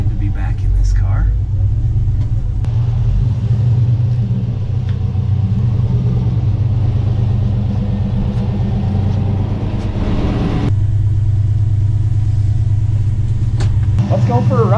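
A car engine warms up with a deep, steady rumble close by for the whole stretch, its tone shifting slightly as it settles, with brief clicks and handling noises layered over it.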